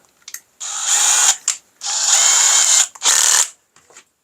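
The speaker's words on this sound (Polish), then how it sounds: "Wkrętarka. Wiertełko na początek piątka i rozwiercam." A cordless drill with a 5 mm bit whirs in three short bursts separated by brief pauses, loud and close.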